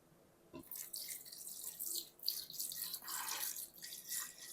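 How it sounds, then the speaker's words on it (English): A quart of beef broth poured into an Instant Pot for beef and noodles: a steady, close splashing and trickling of liquid running for several seconds, with no talk. "we're going to pour in a quart of beef broth"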